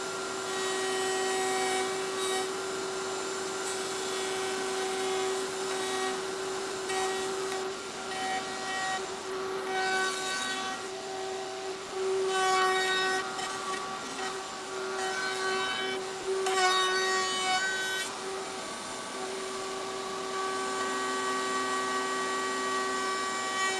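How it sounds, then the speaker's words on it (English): Hand or power sanding on a wooden stove top cover, a steady whirring hum with a persistent tonal whine and rough rubbing texture, moderately close and continuous without pause. "Sanding it down for the final time and start throwing the shellac to it."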